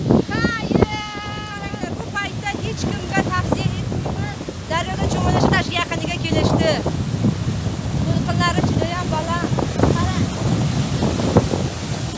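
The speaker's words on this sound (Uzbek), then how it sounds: "To'lqin, shov-shuv." River waves and roaring water, a loud unbroken rush with wind buffeting the microphone and voices talking over it throughout.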